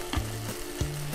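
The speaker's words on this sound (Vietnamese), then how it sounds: "bí quyết để nấu canh xương ngon đó là mình sẽ xào qua phần xương như thế này" Pork bones stir-fried in a multi-function pressure cooker pot for bone soup, giving a steady close sizzle and frying hiss. Two short scraping stirs cut through it, with no talking.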